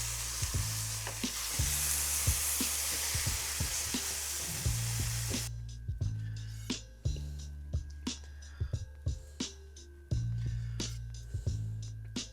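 Birria quesadillas frying in a hot pan give a steady, close sizzle, joined by periodic scraping clicks as they are stirred or turned, with a low hum underneath.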